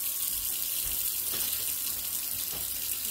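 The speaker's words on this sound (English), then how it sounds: "I'm going to fill up the pot 3/4 of the way full." Tap water runs steadily into a cooking pot, filling it three-quarters full for cheeseburger soup; a continuous broadband hiss of flowing water, close and even, with no voices.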